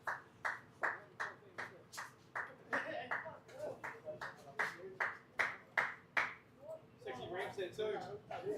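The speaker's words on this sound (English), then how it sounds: "A big clap for 𝗬𝗁𝗃𝗃 as he walks back into the dressing room." At a cricket match, rhythmic, fairly steady handclaps greet a batsman returning to the dressing room, each clap sharp and regular, while a voice talks over them toward the end.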